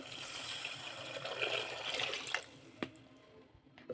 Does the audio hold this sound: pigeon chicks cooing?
no